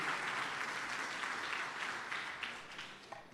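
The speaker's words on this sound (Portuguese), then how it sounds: "Dá um aplauso aí bem forte ao Senhor" Strong, sustained applause from a congregation during a church service, a dense wash of clapping that fills the space, slowly fading toward the end with a few louder individual claps standing out.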